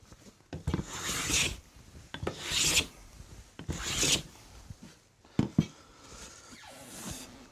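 A hand plane is pushed along timber being squared to a line, peeling off shavings in loud, rasping strokes about every second and a half, each a dry scraping swish with short pauses between, close up.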